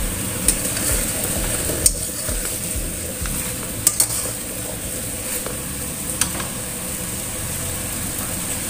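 Carrots and potatoes tipped into a pan of chicken cooking for a coconut-milk curry, a low steady sizzle broken by a few sharp clinks of utensil against the pan.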